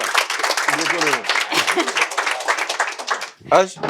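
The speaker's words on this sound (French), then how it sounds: "on applaudit très fort pour lui" A burst of applause and clapping from a crowd, mixed with overlapping voices and cheering, dense and continuous before a brief dip near the end.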